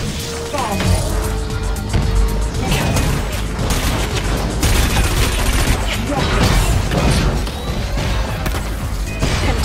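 Dense, continuous booms, blasts and rapid firing from bombs and rockets in the Wipeout VR 2050 racing game, with a voice speaking over the action.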